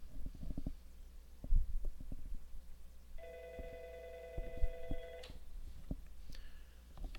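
A Mitel/Aastra 6865i office desk phone rings with an incoming call: one sustained electronic ring tone lasting about two seconds, clear and close, amid low background clatter and bumps.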